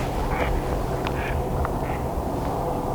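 Mallard ducks give faint, scattered quacks over a steady low background rumble outdoors, several short calls spread across a few seconds.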